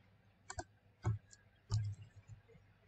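A computer mouse clicks a few times, sharp and close, spaced about half a second apart in a quiet room, with no talking.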